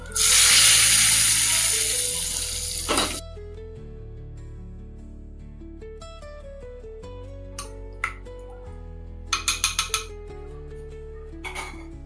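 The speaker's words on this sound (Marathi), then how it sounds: "आता ही फोडणी आपण याच्यावर घालून घेऊ" Hot oil tempering with mustard seeds, cumin and hing poured over a dish, a loud fierce sizzle at the start that quickly fades, followed by quiet clinks of a metal spoon and pan.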